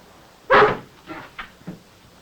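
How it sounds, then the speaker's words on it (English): A dog in a 1941 film barks once loudly up close, followed by a few quieter, shorter yips and whimpers. "Get him, that's the Freeman dog."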